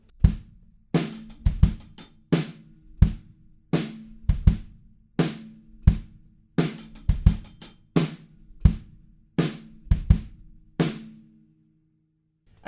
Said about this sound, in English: The second half of the bridge adds in shaker and some tambourine hits as well.